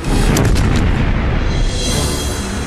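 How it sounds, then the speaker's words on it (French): A giant coastal railway gun fires a 457 mm shell weighing about one tonne, a heavy deep boom that rolls into a sustained loud, low rumble lasting several seconds with no voices. "Il tire des obus de 457 mm pesant 1 tonne et pour une portée de 20 km."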